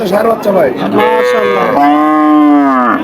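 A cow with her calf at a busy cattle market in Chaugachha, Jessore lets out a loud, close, drawn-out moo after a moment of brief voices and market noise.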